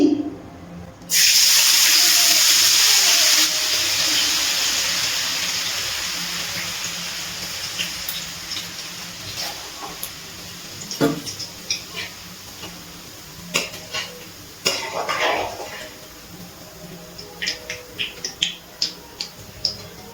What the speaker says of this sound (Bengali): এবার আমি গ্যাসের ফ্লেমটা একদম লোতে রেখে মিহিদানাগুলো ভেজে নেব মিহিদানাগুলো ভেজে নিচ্ছি